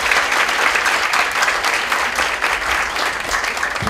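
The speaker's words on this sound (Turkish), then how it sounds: "Bir alkış alalım." Steady applause from a crowd at a poetry festival, dense clapping at a constant loudness throughout, with no voices standing out.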